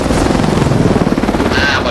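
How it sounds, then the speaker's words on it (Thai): Helicopter in the video game Call of Duty Advanced Warfare, a loud steady rotor chop with rapid pulsing throughout, close and continuous. "เฮลิคอปเตอร"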